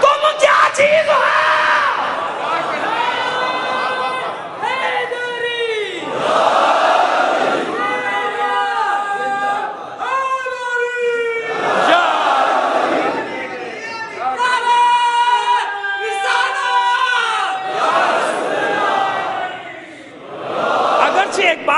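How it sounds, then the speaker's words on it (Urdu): A crowd at a Muharram majlis sermon shouting religious slogans in loud, rhythmic call-and-response bursts, many voices together, rising and falling for the whole stretch. "اگرچہ کہ پراگندہ نعرے لگ رہے ہیں"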